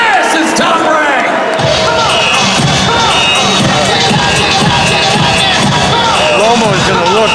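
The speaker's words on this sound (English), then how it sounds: "Another big round of applause for our very special guest, ringside." A large crowd at a boxing event roars with loud, sustained cheering and applause that swells over the venue, dense and continuous, with a voice carrying through the din.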